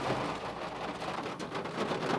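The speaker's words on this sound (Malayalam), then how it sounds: "നല്ല കാറ്റും മഴയും കാരണം ഞങ്ങൾക്ക് പുറത്തൊക്കെ ഇറങ്ങാൻ പറ്റിയില്ല" Heavy rain driven by strong wind at Bhoothathankettu, a dense, steady wash of rainfall roaring without a break, close and loud, with no voices.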